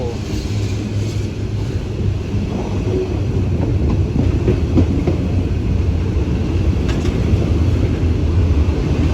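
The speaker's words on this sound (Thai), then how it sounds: "ยาวสุดๆ ไปเลยนะขบวน 778 ในวันนี้ และมาในช่วงตอนบ่ายด้วยนะ" Passenger train 778 passing through a station in the rain, a loud, continuous rumble of rolling wagons that stays steady from start to finish.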